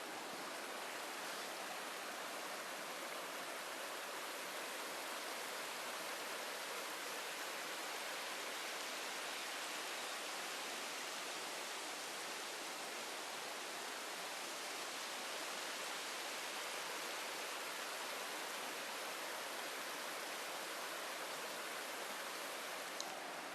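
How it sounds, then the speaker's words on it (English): A river flows through New Hampshire woods, making a steady, full broadband rush of water that stays even and close for the whole stretch, with no voices over it. "I'll go down here by the river. You can listen to the water for a minute"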